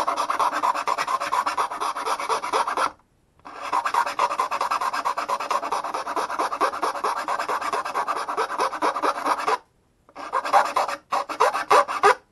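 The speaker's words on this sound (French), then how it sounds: "Je crois vraiment faut passer plus de coups à la lime." Someone works a hand file, making rapid rhythmic rasping strokes up close that run in long bursts broken by two short pauses, with no talking.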